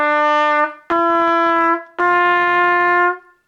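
Three sustained trumpet notes rise stepwise, each loud and close with bright harmonics and short breaths between them, played alone without any talking.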